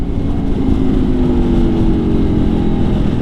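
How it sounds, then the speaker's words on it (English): A 2019 Aprilia Tuono V4 1100 Factory motorcycle engine drones steadily up close with a deep, throbbing rumble and a slight rise in pitch, loud and continuous with no talking. "There really is nothing like a chorus of V4 Tuono to wake you up in the morning"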